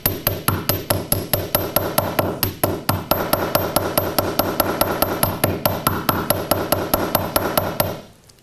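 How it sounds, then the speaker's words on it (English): Rapid, evenly spaced metallic taps of a ball peen hammer texturing a copper jewelry piece, ringing clear and close for about eight seconds in a steady rhythm before stopping. "I can turn my hammer over and use the ball peen end"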